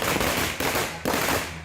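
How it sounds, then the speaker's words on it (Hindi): Fireworks set off by villagers celebrating. Three loud, close firecracker bangs come in quick succession, each followed by a crackling, sustained rumble. "नीतीश की ताजपोशी से खुश उनके गांव के लोगों ने जमकर आतिशबाजी की और एक दूसरे को मिठाई खिलाई।"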